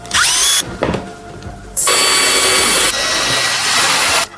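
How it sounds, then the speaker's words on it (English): A small power drill bores a preliminary hole for a junction box while a security camera is mounted, whining loud and close in bursts with short pauses between them. "I'll begin by using a small drill to make a preliminary hole"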